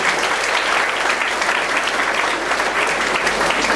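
A hall full of parents and teachers at a college academic excellence awards event claps loudly and steadily throughout, a dense, even wall of applause with no voices standing out.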